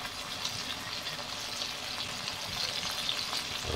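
Onions sizzle steadily in hot oil for a Bengali chicken kosha curry, a dense, even frying hiss close by that holds level throughout and swells slightly toward the end.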